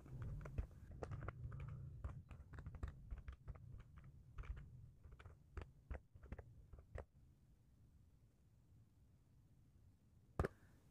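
A computer keyboard clicks in quick, irregular keystrokes as a web address is typed into a browser, close and fairly quiet, then falls silent apart from one late sharp tap.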